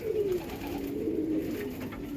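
A male pigeon coos nearby, a low rolling call that repeats in soft swells, clear and alone without talk.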